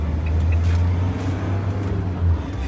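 Large van driving, heard from inside as a loud steady low engine drone with slight rises and dips in throttle, without any voices.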